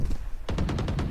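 Video game gunfire, a rapid burst of about six loud, close shots in quick rhythm after a brief quieter lead-in.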